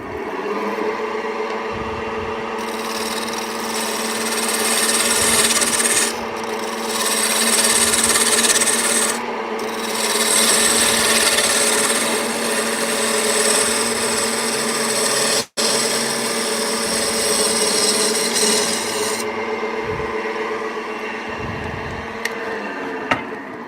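A hand scraper rasps steadily across maple, shaping it in long continuous strokes with brief pauses and one sharp knock, close and fairly loud with no talking.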